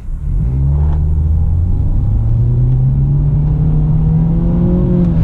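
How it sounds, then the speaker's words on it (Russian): A Renault Logan Stepway with a CVT pulls away from standstill, its engine drone rising steadily in pitch as it accelerates, loud and continuous inside the cabin with no talking. "попробую, друзья, разогнаться с одной педали"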